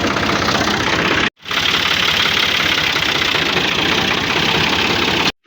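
A tractor engine runs steadily and loudly close by with a rough, knocking idle, cutting out briefly near the start and again at the very end.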